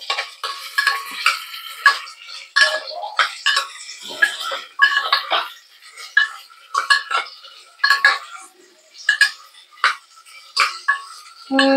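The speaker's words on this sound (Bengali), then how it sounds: "এবার আমি বিটরুট আর আলু দুটো একসঙ্গেই দিয়ে দিচ্ছি।" Beetroot and potato pieces go into a frying pan together, heard as a run of close, sharp spatula clinks and scrapes against the metal with a faint sizzle between the strokes.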